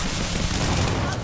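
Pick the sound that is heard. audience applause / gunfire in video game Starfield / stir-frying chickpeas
gunfire in video game Starfield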